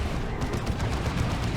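A Psy Cannon fires in the strategy game Dawn of War 2 Retribution, during a Warhammer 40k battle. It makes a brief, dense, rapid barrage of blasts over a steady, roaring wash of battle noise.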